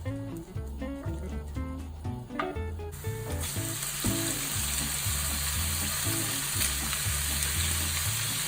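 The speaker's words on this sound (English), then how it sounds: "So we'll just saute those off for a few minutes before we add the bacon." Diced onion sautés in olive oil in a pan for a butternut and bacon risotto, a soft, steady sizzle heard under background music, no talk.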